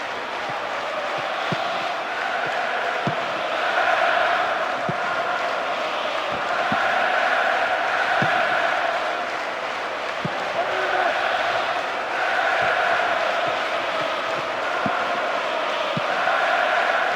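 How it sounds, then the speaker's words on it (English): Stadium crowd in the football video game PES 2009, a steady roar of massed voices with rising and falling swells and scattered sharp thumps, carrying under a commentator's voice throughout. "The crowd close to the pitch makes for a good atmosphere."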